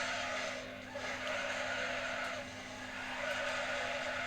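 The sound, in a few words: car drifting and skidding in Need for Speed Underground 2 video game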